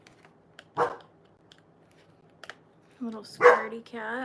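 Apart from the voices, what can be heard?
dog barking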